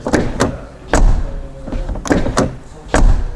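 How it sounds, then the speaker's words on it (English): Several solid thuds of a new Mercedes CLA's rear door shutting, spaced irregularly over a few seconds, close by and with a dull, heavy closing sound. "they did a brilliant job with the rear door. Just listen to the sound"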